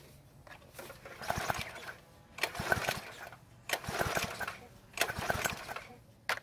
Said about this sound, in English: let's prime the carburetor and try starting it